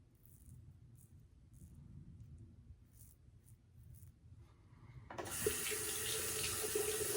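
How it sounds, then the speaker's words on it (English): Tap water runs loudly onto a Muhle Rocca safety razor as it is rinsed under a faucet, the steady gushing starting abruptly after a quiet stretch of faint rustling. "I always try to rinse the Rocca out like you normally would and hit it in the lather channel"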